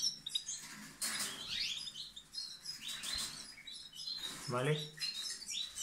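Young weaned birds separated by a wire grille in breeding cages chirp and tweet in scattered bursts, with a few rustles, while someone speaks briefly nearby.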